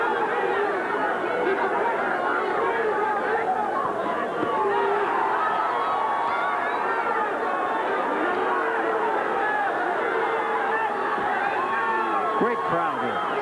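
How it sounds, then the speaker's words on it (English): A boxing crowd at an Arizona State featherweight fight keeps up a steady, dense hubbub of chatter, with scattered shouts rising now and then above the constant babble. "Great crowd here. They are so totally into this fight."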